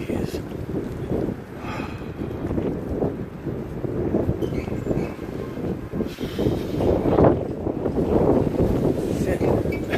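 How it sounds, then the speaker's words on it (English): Strong gusty wind buffets the microphone outdoors, a loud rumbling roar that swells and eases in waves, with a person speaking intermittently over it. "It is really windy out here."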